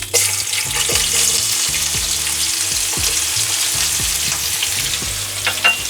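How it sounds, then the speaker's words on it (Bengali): Sliced onions frying in hot oil in a home kitchen, a loud, steady sizzle with crackling and occasional stirring scrapes, close up and without voices. "তেলটা গরম হয়ে গেছে। এবার আমি এর মধ্যে পেঁয়াজ দিয়ে দেব।"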